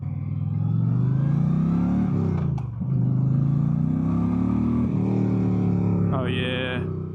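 A 2025 Indian Chieftain PowerPlus Limited motorcycle with the PowerPlus 112 engine accelerates hard, its loud, close, continuous engine note rising and dropping through shifts under steady wind rush.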